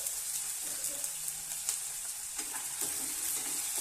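Steady, close sizzling of food frying in a pan for gobi curry, with a continuous hiss and occasional stirring scrapes and pops, no talk.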